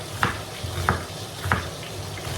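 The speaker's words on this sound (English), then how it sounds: "You hear that sizzling?" Soft steady sizzling of onions frying in a pan, with a few brief scraping stirs at regular intervals.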